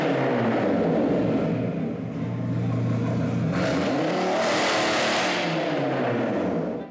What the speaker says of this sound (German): Die Klappen im Auspuff öffnen sich normalerweise erst jenseits der 50 km/h. Für den Show-Effekt abseits der Straße geht's aber auch per Knopfdruck.